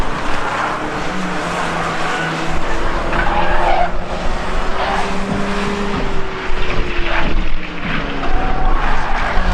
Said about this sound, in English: Off goes the 98 car into the barrier.